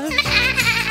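A sheep's bleat, sung or imitated within a children's nursery song about a farmer shearing sheep, a short wavering tone over a musical backing.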